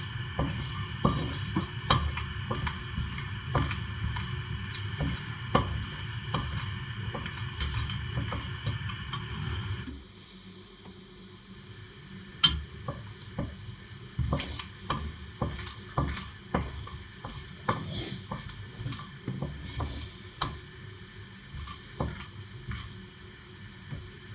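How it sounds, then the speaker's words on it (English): Whole cinnamon pops and crackles in hot oil while cooking a dried-style chicken curry, a steady run of sharp little snaps over a low sizzle, busier at first and then quieter and sparser. "Once you hear the cinnamon pop, then it's ready to add the onions."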